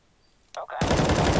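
Gunfire in the video game CS:GO: a short voice-like sound, then a sudden loud stream of rapid automatic shots filling the last half second.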